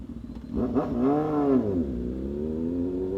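A BMW S1000RR sport motorcycle engine revs up sharply, its pitch climbing then easing down to a steady, high idle, loud and close.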